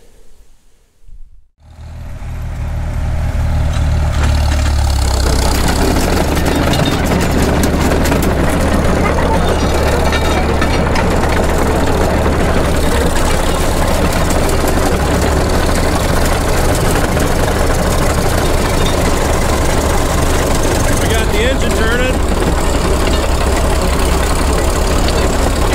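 Old Caterpillar D2 crawler tractor engine fires up after sitting for 20 years and settles into a loud, steady, knocking diesel run close by, following a short quiet moment at the start.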